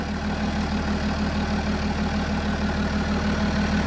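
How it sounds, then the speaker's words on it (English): A 3-litre diesel engine in a BMW X5 3.0d idles steadily close by, a deep even rumble with a faint regular knock, no voices. "The engine running, so this is the 3 litre"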